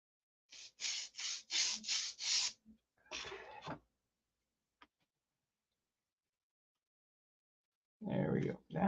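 Wood rubbed with sandpaper in a shop, a quick run of five or six close, rasping strokes in a steady rhythm, then a shorter burst, a long silence and a final scrape.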